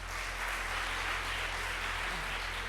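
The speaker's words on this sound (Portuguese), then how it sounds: "Eu acho que este painel merece uma salva de palmas." A conference audience gives a conference panel a brief, even round of clapping, moderately loud and continuous, with no voices.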